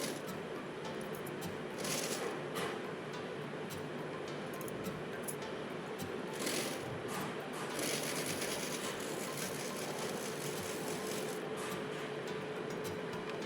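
A sewing machine stitches net cloth for a baby's party frock, running in a steady, fast mechanical whir with light ticking. It stays close and even throughout with no talking.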